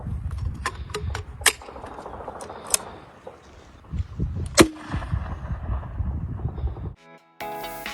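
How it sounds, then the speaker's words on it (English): An underslung grenade launcher is loaded and fired at a military training area in Wales. Sharp metallic clicks and clacks of loading lead to a single loud firing report, with wind noise over the outdoor microphone. "That was the sound of an underslung grenade launcher being loaded and fired"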